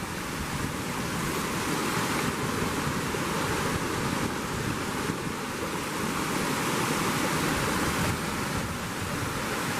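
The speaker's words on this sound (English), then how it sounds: "cool little waterfall." A small creek swollen into a little waterfall after heavy overnight rain gives a steady, loud broadband rush of falling water, continuous and unbroken with no voices.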